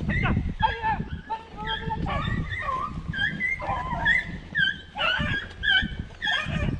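Beagle hunting dogs on a rabbit hunt, whining, yipping and barking in a rapid, overlapping series of high cries, close and loud, with people talking among them.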